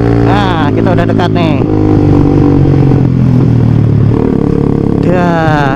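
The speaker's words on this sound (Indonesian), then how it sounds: "ini dia ta motor-motor touring nih" A group of touring motorcycles, including a Ninja, rides along nearby, engines droning and revving continuously over road noise while someone talks excitedly throughout.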